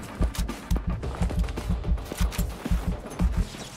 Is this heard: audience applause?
no